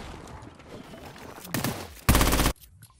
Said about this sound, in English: He hasn't missed a single bullet with his AR